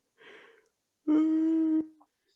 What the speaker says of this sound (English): I think I'll stop yawning.